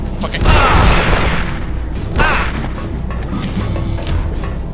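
Loud gunfire and explosive booms from the Aliens versus Predator 2 video game rattle through a marine campaign firefight, with bursts clustering early and again midway while game voices speak over them.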